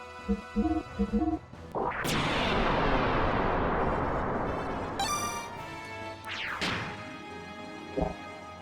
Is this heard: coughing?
no